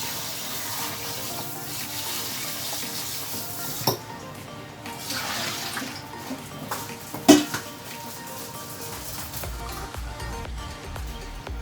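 Vegetables, including corn, are rinsed under a running kitchen tap in a sink, with a steady stream of water, occasional clinks of dishes and utensils, and a few sharp knocks.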